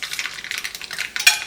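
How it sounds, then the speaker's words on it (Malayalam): Mustard seeds splutter in hot coconut oil in a home kitchen, giving a quick, close run of sharp crackles and pops over a light sizzle, with no voices. "അപ്പോൾ വെളിച്ചെണ്ണ ചൂടായിട്ടുണ്ട്. കടുക് പൊട്ടിക്കട്ടെ."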